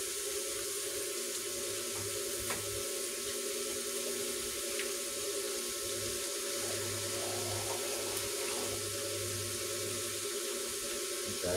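Water runs steadily from a tap into a pan of sautéed chayote and cabbage with ground pork, a continuous close hiss and trickle lasting about eleven seconds.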